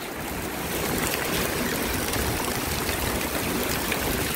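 Sudden rain pours down at a construction site, a dense, steady hiss of water that starts in the first second and holds loud and unbroken throughout, with no voices.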